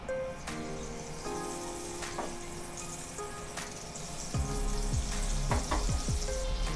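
Oil and butter heating in a pan give a steady soft sizzle with scattered clicks, swelling louder near the end as low knocks and scraping sounds join in.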